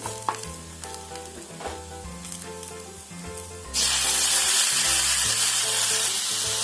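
Fish eggs sizzle while frying in a pan with tomatoes, a steady crackling hiss under soft background music that suddenly jumps to a much louder, fuller sizzle partway through.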